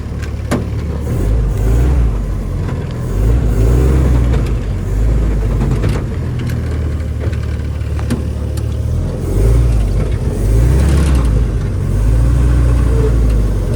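A 1952 Willys M38 Jeep with manual steering drives and turns, its engine rumbling loud and close with a steady idle-to-rev rise and fall, alone without talk.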